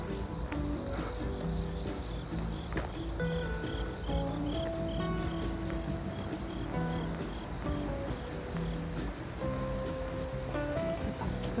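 Crickets chirp steadily and densely throughout, a continuous layered insect chorus along a stream path on a morning walk, loud and without speech.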